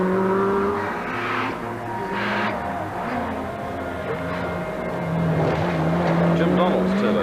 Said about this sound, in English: Shaker Mesa's Nissan goes by on a Sunday evening.